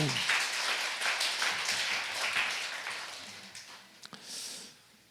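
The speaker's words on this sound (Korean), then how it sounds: "우리 하나님께 영광의 박수를 드립니다." A church congregation at a Korean Sunday worship service claps in praise, a loud burst of scattered hand claps that thins out and fades to a few isolated claps and faint room noise.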